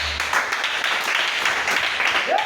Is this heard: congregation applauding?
yes